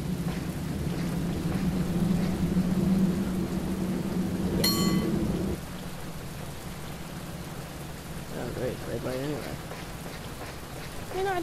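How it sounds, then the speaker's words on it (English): Steady rain with a low rumble of thunder in the Bus & Cable Car Simulator game, loud and continuous at first, then softer as the downpour eases, with a brief sharp tone partway through. "I like walking in the rain."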